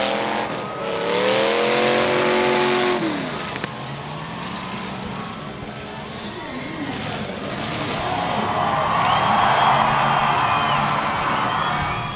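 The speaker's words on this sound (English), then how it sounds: "One of those cars is just loud." Cars in a women's demolition derby at Toyota Speedway, engines revving loudly with rising and falling pitch, crowd and arena noise around them.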